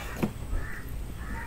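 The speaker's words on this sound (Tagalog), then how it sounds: "Uy, merong uwak" A single crow caws once near the start, fairly clear against quiet outdoor background, followed by faint ambient noise.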